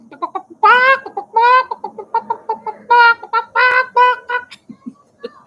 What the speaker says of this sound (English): all of the chickens are going to follow me